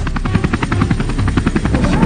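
A helicopter's rotor beats in a fast, steady chop over a constant engine whine, loud and close, with no voices.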